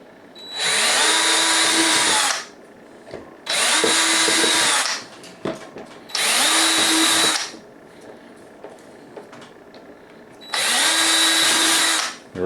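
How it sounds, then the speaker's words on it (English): A power drill whirs in four sustained bursts of about two seconds each, drilling holes straight through an ammo can, revving up and winding down, with short quiet gaps between them. "Pop it on your drill, and we're going to drill the holes straight through."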